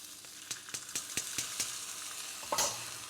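Basmati rice grains toast with spices in a hot pan, giving a soft, steady sizzle broken by repeated light scrapes and clicks as the pan is stirred.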